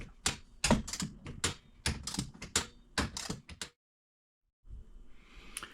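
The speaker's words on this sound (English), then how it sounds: "putting in the first lag bolt, and you don't want to over tighten that" Short, sharp clicks and taps come in a quick irregular burst while a lag bolt is driven into a wall to mount a tire rack. A brief silence follows, then a soft rustling.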